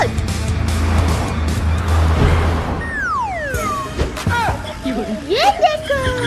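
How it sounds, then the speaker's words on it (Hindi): A car is driven with revving engine noise, then tires squeal and skid in rising and falling sweeps while voices shout over it, loud and close. "मैं बिना हाथ पकड़े गाड़ी चला रहा हूँ"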